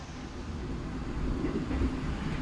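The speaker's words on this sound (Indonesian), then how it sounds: "Selamat datang di kereta eksekutif Jayabaya" Jayabaya executive stainless-steel train riding on rails, a steady low rumble with faint wheel clatter throughout, no talking.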